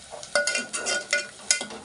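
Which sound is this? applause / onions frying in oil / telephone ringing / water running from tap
onions frying in oil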